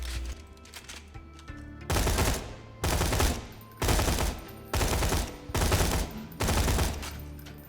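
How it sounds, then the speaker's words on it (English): Scorpio gun firing in Borderlands 2: six loud, rapid bursts of automatic fire, each about half a second long, separated by short pauses with a low game hum between them. "Scorpio special is that its rate of fire changes as it's firing when hip fire"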